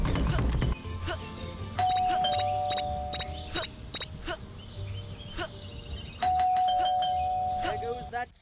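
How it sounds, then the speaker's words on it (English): A doorbell chimes repeatedly in the mobile game Scary Teacher 3D, with clear electronic ding-dong tones coming back in bursts over a steady hum of game background sound. "There goes that stupid bell again."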